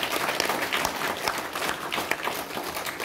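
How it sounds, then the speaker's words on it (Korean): A church congregation in Hawaii claps together in steady, fairly quiet applause, many hands pattering evenly without a break. "우리 전조 박수 한번 해주실까요?"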